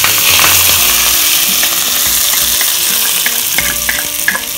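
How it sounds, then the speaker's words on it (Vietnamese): Leftover cooked rice frying in hot bubbling pork fat for crispy rice with scallion oil, a loud close sizzle with stirring and scraping in the pan, continuous and without speech. "Mỡ lúc này cũng sôi nè mọi người."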